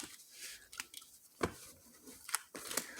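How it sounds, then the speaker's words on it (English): Tarot cards being shuffled, a series of soft papery riffles and snaps spread across a few seconds, faint and close, with no talking. "All right, one more shuffle, then we're going to begin looking at the cards."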